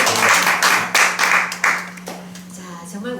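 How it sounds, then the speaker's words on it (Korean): An indoor audience at a Korean talk event claps in a short, lively burst of applause that swells and fades within a few seconds, with close individual hand claps standing out. "다시 한번 박수 드릴게요."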